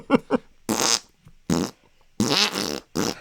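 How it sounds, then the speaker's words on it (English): A string of comedic fart sound effects, several separate bursts of varied length with short gaps between them, loud and close with no talking over them. "40 fart sounds to listen to"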